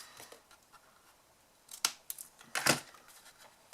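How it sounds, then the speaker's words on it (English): Scissors trimming the end of a strip of paper, a few sharp close snips with quiet handling noises between them and no talking. "You may need to trim just a little bit off the end if I can find my scissors."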